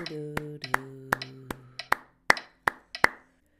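Hands clap a steady rhythm, about nine sharp, close claps spaced roughly evenly, with a sustained musical tone ringing underneath the first few.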